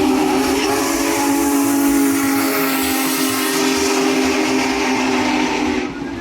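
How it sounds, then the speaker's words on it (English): Union Pacific Big Boy 4014 steam locomotive sounds its throaty, booming whistle in one loud, sustained blast that holds steady for about six seconds before cutting off, with steam hiss around it. "With a throaty but booming whistle,"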